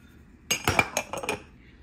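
Cups being handled and set together, giving a short run of five or six close, bright ceramic clinks in quick succession.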